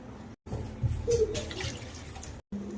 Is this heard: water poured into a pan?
yes